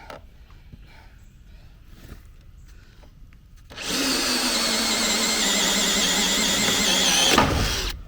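A cordless drill whirs loudly and continuously for several seconds drilling a hole in metal, after a quieter stretch of small handling noises, then cuts off abruptly.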